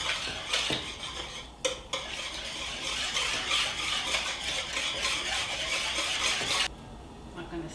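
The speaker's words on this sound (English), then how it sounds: "I'll just simply whisk this up" A whisk beats a creamy dressing for German pasta salad in a bowl, a brisk continuous metallic scraping and clatter close by that briefly pauses, then cuts off near the end.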